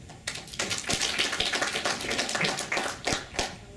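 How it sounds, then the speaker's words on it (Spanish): An audience at a law conference clapping steadily and fairly loudly, a dense patter of many hands that keeps going for a few seconds. "la doctora Zulma Villa, a quien también les agradezco brindarles un fuerte aplauso"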